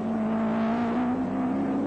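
Touring cars racing at Oran Park in the 1983 Australian Touring Car Championship, a steady engine drone heard from a distance, moderately quiet and holding a constant pitch.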